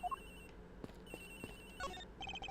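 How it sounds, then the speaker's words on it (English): An in-game telephone rings in the Ace Attorney Investigations video game: a bright electronic ringtone in short repeated tonal bursts, clear and fairly quiet, heard alone with no talking. "It sounds like the phone is up in the flight attendant's room."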